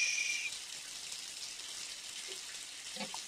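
A shower runs in a video game as a steady, even hiss of water that holds from start to end at a moderate level.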